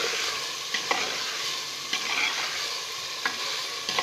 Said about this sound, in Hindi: अब मैं इसमें चिकन ऐड कर रही हूँ, और बिल्कुल अच्छे तरीके से इसको मिक्स करेंगे